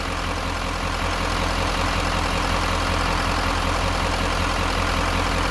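A car engine idles steadily and loudly at close range throughout a battery tester's idle test, with no talk over the even rumble.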